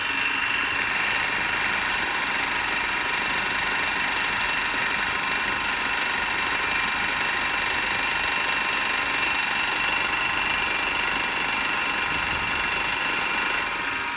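A DC motor in an electrical machines lab runs at 212 volts under armature speed control, about 1458 RPM, giving a continuous steady hum and whir with an even, unchanging level throughout.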